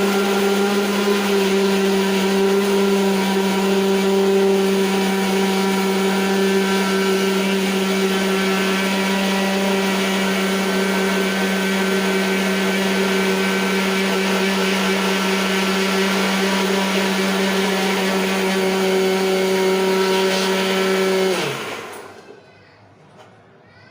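Electric grinder whirring steadily as it blends ingredients into a paste for chicken kebab, a loud sustained motor hum with strong tonal whine that runs unbroken for about twenty seconds, then spins down and stops.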